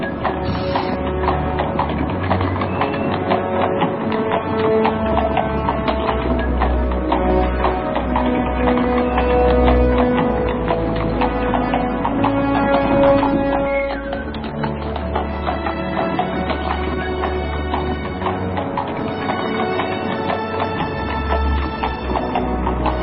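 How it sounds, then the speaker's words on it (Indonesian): Horse hooves clip-clop at a steady walking rhythm as a horse-drawn cart rolls slowly along in an Indonesian radio drama, the clopping loud and continuous over a low rumbling background. "Gerobak kuda meluncur perlahan, meninggalkan perbatasan desa Antahpura."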